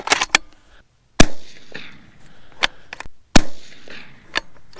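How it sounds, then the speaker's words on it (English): Sharp rifle shots from a 6.5 Creedmoor firing 123-grain Sierra handloads with StaBALL Match powder, several loud cracks spaced irregularly over a few seconds, each with a ringing decay outdoors. "Final shots with StaBALL match."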